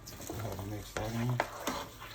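Chicken, shrimp, spinach and celery being stirred in a pot, with soft scraping and wet shuffling strokes, a few sharper clinks of the utensil against the pan, fairly quiet.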